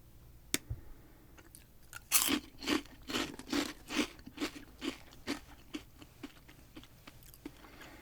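Bright red chili-coated corn snacks crunched close up, a quick burst of loud bites followed by a steady run of chewing crunches that gradually fade and thin out, with no talking.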